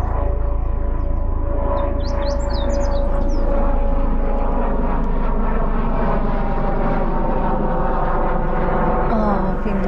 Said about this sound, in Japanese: ヘリ飛んでる。 このとこヘリ飛ぶん？